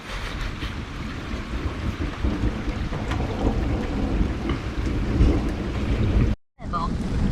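Thunderstorm with rolling thunder and steady rain during a bicycle touring trip in Austria: a dense, continuous rumble and hiss with no talk, cut by a brief total dropout near the end.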